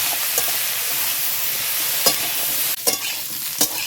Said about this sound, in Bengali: সঙ্গে একটু হলুদ দেব ভালো করে আলু এবং কাঁঠালটাকে ভেজে নেব